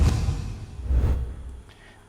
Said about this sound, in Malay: aku tambah lagi efek swoosh tapi bunyi lain sikit lah